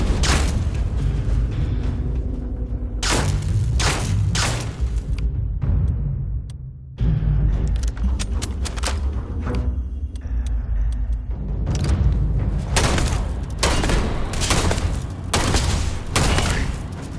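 Heavy weapons fire in Starfield comes as repeated loud volleys and rumbling blasts in clustered bursts, with a short lull partway through, then dense barrages again over a low booming bed.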